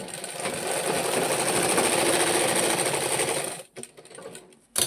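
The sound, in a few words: sewing machine stitching a jacket body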